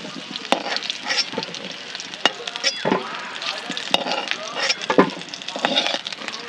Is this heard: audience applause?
no